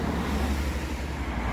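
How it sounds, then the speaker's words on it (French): Busy road traffic on a morning street, with many cars passing in a continuous broadband roadway rumble at moderate level and no voices. "Plein de voitures, ça circule à fond."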